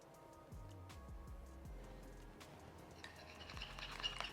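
Matcha powder whisked with a splash of just-boiled water into a paste in a bowl, soft repeated scraping and stirring strokes with faint clinks, quiet and close.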